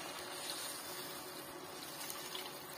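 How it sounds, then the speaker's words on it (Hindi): Water pours steadily into a pan of Maggi noodles on the stove, a soft continuous rushing splash heard close up with no talking. "पानी डालना है, तो पानी इतना डालना है जिससे कि ये मैगी डूब जाए"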